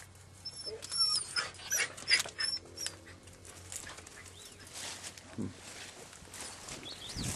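Three dogs yelp and bark in sharp bursts early on while hunting a rabbit, then rustling movement and faint background noise.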